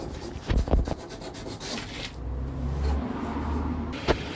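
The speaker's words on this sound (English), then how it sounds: "down the front volants with my favourite grit of sandpaper, 80 grit" Coarse rubbing and scraping strokes of 80 grit sandpaper on a 1975 Vauxhall Viva's front panels, a few quick ones then a longer steady grind, close up and moderately loud.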